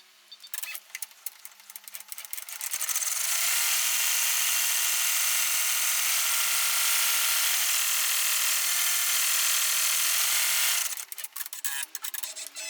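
An embroidery machine runs a final tack-down stitch-out on an in-the-hoop two-pocket window ID holder in a 4x4 hoop, a steady, loud mechanical buzz that holds for several seconds, with shorter clicks and rattles before and after.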